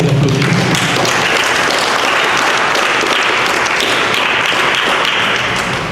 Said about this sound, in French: Moi, je vais l'applaudir.